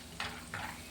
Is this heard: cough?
no